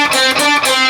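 Short electric guitar lick from a solo, a sustained distorted phrase with quick note changes, loud and close with no talking.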